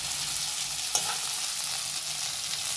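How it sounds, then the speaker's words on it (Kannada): Fish frying in a pan of oil, giving off a steady close sizzling hiss with a brief stir or crackle partway through and no talk. "ಬೇಗ ಫ್ರೈ ಆಗೋಗುತ್ತೆ ಇದು?"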